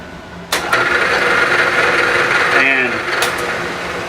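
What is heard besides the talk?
Bridgeport milling machine fly cutting glued wood at 1115 RPM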